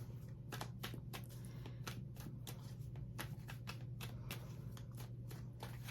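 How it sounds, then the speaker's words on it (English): Tarot cards are shuffled in a series of quick, crisp riffles and flicks up close, with a low steady hum underneath and no talking. "Let me pull a few cards for you."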